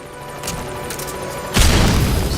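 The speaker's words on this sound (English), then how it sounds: "We'll go ahead and use a stun grenade to take him out." A stun grenade bursts in Metal Gear Solid 5: The Phantom Pain, a loud sudden blast partway through that holds as a dense roar after quieter game ambience.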